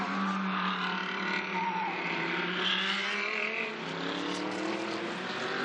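A pack of GT race cars from the Blancpain GT Series Asia at the Zhejiang circuit roars past in a dense, continuous engine howl, several overlapping revving notes sweeping by at close range.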